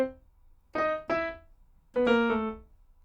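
A piano plays a short melody in unison with both hands, as a few separate notes and then a held chord in a quiet room.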